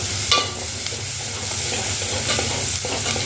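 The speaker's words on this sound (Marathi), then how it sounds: "सगळ्यात पहिला आपण लसूण टाकलेला आहे, कारण की लसणाची थोडासा टेस्ट येण्यासाठी आपल्याला तेलामध्ये परतून घ्यायचं आहे" Garlic, onion, chili and curry leaves crackle in hot oil for a Mandeli fish curry, a steady close sizzle broken by a few sharp stirring scrapes.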